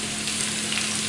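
Spinach sizzles briskly in a frying pan, a dense, steady crackle of frying, close and loud with no talking.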